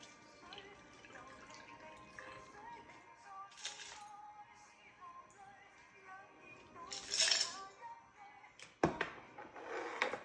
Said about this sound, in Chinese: 将酒过滤到酒杯中。